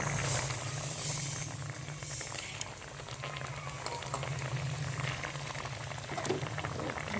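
Plum chutney with added sugar bubbles steadily in a pot, a close, continuous hissing boil with dense popping that carries on alone without talk.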